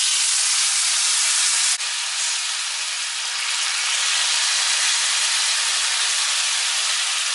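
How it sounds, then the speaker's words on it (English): Coconut milk poured onto hot curry powder with garlic and thyme, a loud, close, continuous hissing sizzle that dips briefly near the start, then holds steady with no talking. "Now I'm going to add the coconut milk to the curry powder."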